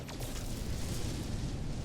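Explosions in the video game No Man's Sky, set among asteroids in space, roll out as a dense, continuous low rumble with a sharp burst at the start, loud and steady with no one talking.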